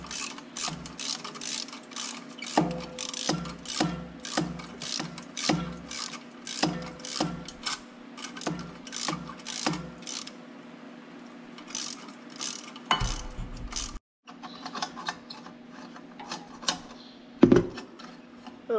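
Ratcheting wrench clicks in quick repeated bursts while an exhaust pipe clamp on a Case 305 is loosened, close and fairly loud, with a short pause and a sharp metallic clank near the end.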